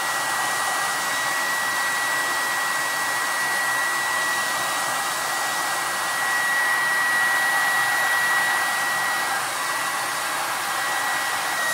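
A hair dryer blows continuously while drying hair, a steady, close, airy whoosh with a faint constant whine and no speech.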